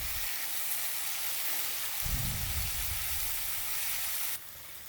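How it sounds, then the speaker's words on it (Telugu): Chopped tomatoes fry in a pan for a pani puri and masala chat dish, giving a steady close sizzle with a brief stirring swell midway, then the sizzle drops lower near the end. "ఇది బాగా ఫ్రై చేసుకోవాలి ఇప్పుడు ఇది కూడా."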